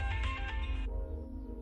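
Phone ringing in a Hindi-dubbed South Indian film, a rhythmic electronic ringtone that cuts off partway, leaving a low tonal hum beneath.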